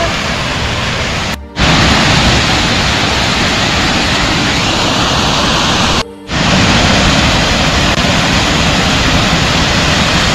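Finns Falls in New River Gorge roars as a loud, steady wash of falling water close by, with two brief dropouts.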